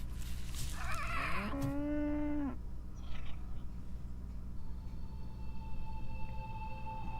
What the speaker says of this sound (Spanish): Qué mona es la vaca, también hay que decirlo.